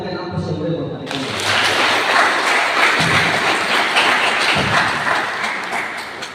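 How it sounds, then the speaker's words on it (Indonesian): Audience applause for the dean at a Maulid Nabi gathering held by an Islamic education student association in Ternate. The clapping swells after a spoken introduction and carries on steadily, dense and fairly close, fading slightly near the end. "Kita berikan aplaus yang boleh buat Pak Dekan."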